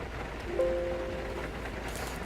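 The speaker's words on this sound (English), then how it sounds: "Just the rain is really loud in the game" Steady rain pours in the X-Plane flight simulator during a general aviation flight, a continuous loud hiss with a short tonal beep early on.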